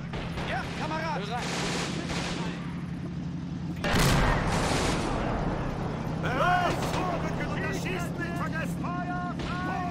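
A war video game throws out scattered gunfire and artillery booms. One heavy blast lands near the middle, amid a continuous engine rumble, while someone talks over much of the clip.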